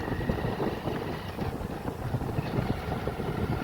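A motorcycle ridden one-handed over a very bad road, a rough low engine rumble mixed with wind buffeting the microphone, steady and close throughout, with no talking.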